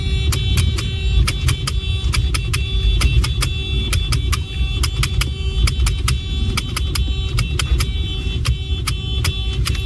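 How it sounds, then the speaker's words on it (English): A car tails a convoy of ICE vehicles with its horn honking over and over in short bursts, a steady nearby road and engine rumble continuing underneath. "Here's Will Stancil tailing ice and honking at them furiously."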